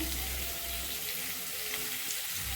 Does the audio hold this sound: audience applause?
no